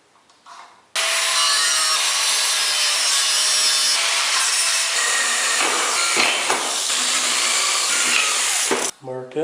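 A saw cuts through a wooden tripod leg in a steady, loud, continuous back-and-forth rasp lasting several seconds, beginning abruptly and stopping near the end, close and alone.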